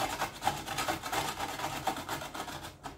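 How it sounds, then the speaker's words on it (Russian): Vegetables for borscht are grated by hand on a grater, giving a steady run of rough rasping strokes close by, with no talk over them. "На терке трет."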